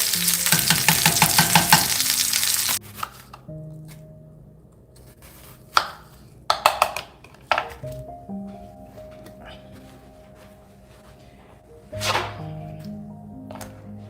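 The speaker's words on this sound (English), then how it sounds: "you want to make sure that you are searing your sesame on there. And I'm going to let that cook." Sesame sears in a hot pan while bread is being made. A loud, close sizzle fills the first few seconds, then gives way to quieter scattered clatters and knocks.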